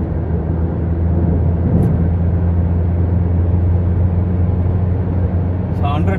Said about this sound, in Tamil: இப்போ நான் 3rd gearல இருக்கேன். நல்ல ஒரு புல் பண்ணிட்டுருக்கேன்.